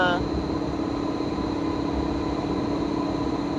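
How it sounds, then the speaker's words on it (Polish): A Koleje Dolnośląskie Impuls train from Szklarska Poręba Górna arriving at Wrocław Główny gives a steady loud drone and electric hum, with a brief descending whine right at the start. "Koleje dolnośląskie ze Szklarskiej Poręby Górnej do Wrocławia Głównego, Impuls Lewak."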